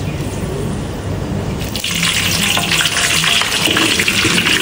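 Torch ginger flower dropped into hot oil with spices for asam lemak, a steady close frying sizzle that jumps louder partway through as the flower hits the pan, no talk.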